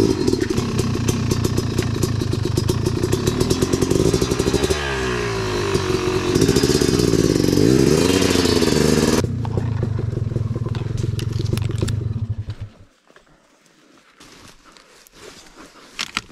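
A Yamaha YZ 450FX dirt bike on a slippery, log-strewn trail, its engine loud and close, revving and wavering in pitch before suddenly cutting off, leaving quieter rustling and clatter.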